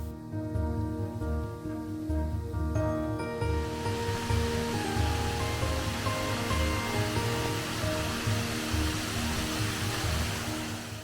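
Rushing water at Harmby Waterfalls near Leyburn in Wensleydale, a broad continuous roar that swells and stays loud and steady throughout, with a low hum underneath at first.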